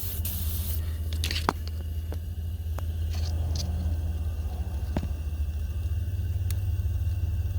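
A 2020 BMW M8 with 35,000 km idles during a check-up, holding a steady low drone throughout with occasional faint clicks and scrapes from work nearby.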